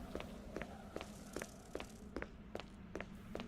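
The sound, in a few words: footsteps in the video game Resident Evil (2002)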